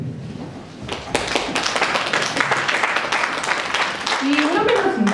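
Applause from a debate audience at a university law debate in Juliaca, Peru, greeting a team member; steady clapping fills the room alongside a voice talking over it.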